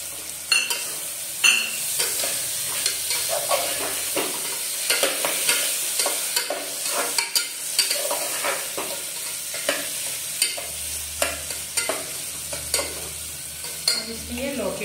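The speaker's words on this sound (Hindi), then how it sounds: "अब इसमें ये भिगा हुआ चना दाल डालेंगे" Soaked chana dal sautéed with softened tomatoes in a pan for a lauki chana dal dish, giving a steady close sizzle with repeated scraping stirs and light utensil knocks throughout, no talking.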